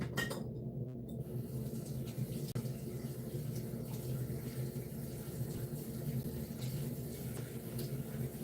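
Tap water runs steadily into a sink while hair is rinsed, a soft continuous splashing wash with a brief clink near the start.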